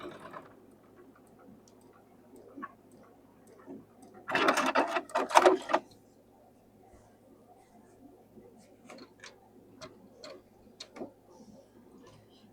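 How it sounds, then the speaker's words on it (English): A sewing machine stitches fabric in one short, rapid burst of about a second, close by, surrounded by quiet ticking and handling sounds. "So we're going to sew this together"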